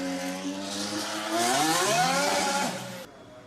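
A Renault R.S 20 Formula 1 car pulls out of its garage, its loud engine whining and rising in pitch as it moves off, then cutting to a quieter background near the end.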